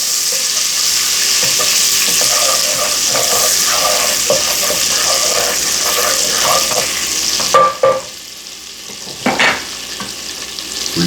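Butter melts and sizzles in a hot pot on medium-high heat, a loud close frying crackle with scraping stirs that stops abruptly partway through, followed by a few clatters and quieter handling sounds.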